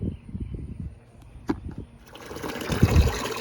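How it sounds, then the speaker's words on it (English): Water gushes and trickles out of a garden hose being drained, a close, uneven pouring and splashing that grows louder and fuller toward the end. "Okay, so the water's draining out."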